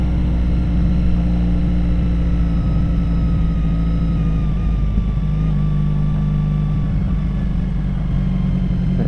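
Honda VF1000R motorcycle running VF1000F carburetors on a road test ride, a steady low engine drone with a rising and falling pitch, loud and continuous with no talk.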